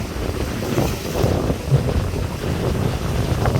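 Strong wind roars over a rough sea off Point Pedro, with buffeting on the microphone and waves surging as boats work offshore, loud and continuous throughout.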